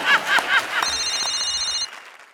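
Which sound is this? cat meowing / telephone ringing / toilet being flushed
telephone ringing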